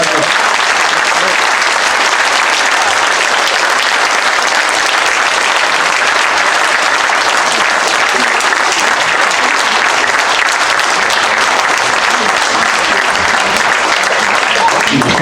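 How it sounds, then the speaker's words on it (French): Loud, sustained applause from an audience at a municipal council meeting in Levens, honouring Michel Castel, a dense, steady wash of many hands clapping that continues evenly for the whole stretch. "Je vous demande d'applaudir très fort Michel Castel."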